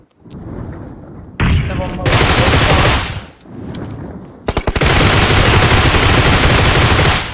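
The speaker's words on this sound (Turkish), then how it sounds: "Bir bomba çektim. Bomba attım onlara." In a fast-paced shooter game, a grenade blast and heavy bursts of automatic gunfire roar loudly in two long volleys with a brief lull between, dense and close.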